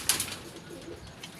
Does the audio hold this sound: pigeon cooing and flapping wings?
yes